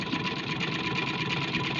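A sewing machine stitches fabric at a steady pace, giving a continuous close motor whir with a fast, even mechanical rattle.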